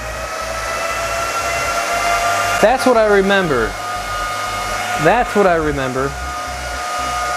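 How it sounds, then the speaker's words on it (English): Bitmain Antminer Z9 ASIC crypto miner fans roar at home in a loud, steady whine with constant tonal hum throughout, while a person speaks briefly over the noise twice. "That's the sound of beautiful ASIC miners in your house."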